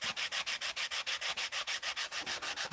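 Steady back-and-forth rubbing of 80 grit sandpaper over a thick sheet roughly 3/8 inch, about fifteen even strokes in a brisk rhythm, close up with no voices.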